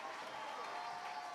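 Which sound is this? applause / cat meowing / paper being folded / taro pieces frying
applause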